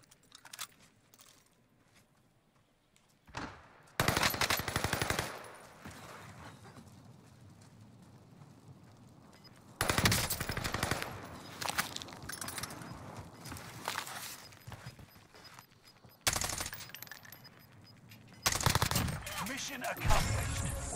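Marco 5 submachine gun fire in the Warzone video game, with loud rapid bursts near 4 seconds and again from about 10 to 21 seconds, separated by quieter stretches.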